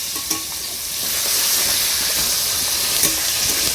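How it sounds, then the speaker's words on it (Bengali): Snakehead fish sizzles in hot oil as it is lightly fried, a loud, steady, close hiss with a few soft stirring clicks. "তার জন্য আমি হালকা করে ভেজে নিলাম"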